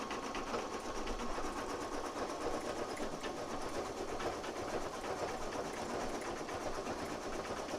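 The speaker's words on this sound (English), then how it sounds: "one of the cool things about this machine is that it will cut jump stitches and continue to go" An embroidery machine stitches a design for a straw beach clip, running in a steady, continuous rapid whir that stays even and moderately close throughout, with no voices.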